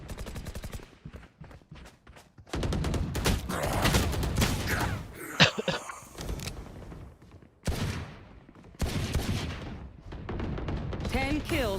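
Rapid gunfire from a Valorant championship match between SEN and GX, bursts of shots and louder exchanges cutting in and out, with a commentator's voice talking over the game sounds.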